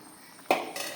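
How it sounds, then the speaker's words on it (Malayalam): Dishes clink as curry is transferred into another vessel, a single close metallic clank followed by a softer second knock, with no one speaking. "വേറൊരു പാത്രത്തിലേക്ക് അതൊന്ന് പകർന്നു"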